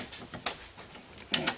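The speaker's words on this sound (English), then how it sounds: "I just take the bolts and run them through." Metal bolts being pushed through stacked steel mounting plates on a Jeep Cherokee XJ rear spare-tire mount, giving a few short clinks and scraping rattles close by, with quiet gaps between them.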